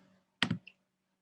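A short double click at close range, like a computer mouse button pressed while selecting a citation option in a university library database, followed by a faint lighter tick, then quiet.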